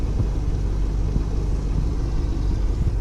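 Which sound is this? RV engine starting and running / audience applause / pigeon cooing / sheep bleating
RV engine starting and running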